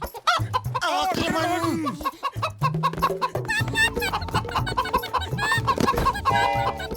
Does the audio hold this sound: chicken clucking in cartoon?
yes